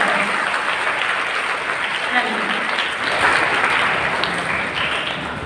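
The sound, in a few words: students applauding at a school literary society event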